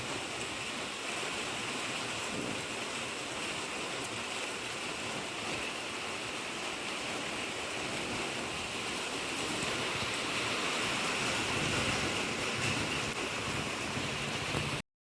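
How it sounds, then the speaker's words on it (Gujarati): Heavy rain pours down on a godown in Datrana village, Junagadh district, a dense, continuous roar, steady throughout and slightly intensifying toward the end before stopping abruptly. "ગોડાઉનમાં અનરાધાર વરસાદ પડવા માંડ્યો છે"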